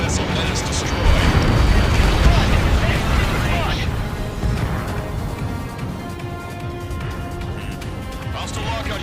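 A heavily armored Aegis battleship exploding and sinking in Ace Combat 7, a loud sustained rumbling blast with crashing debris that slowly fades, under radio chatter.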